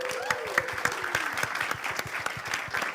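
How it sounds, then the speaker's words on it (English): An audience gives a round of applause for a guest named Lil Purpberry at a community gathering, steady clapping from many hands filling the room at moderate volume, with no voices over it. "I'd love everyone to give her a round of applause"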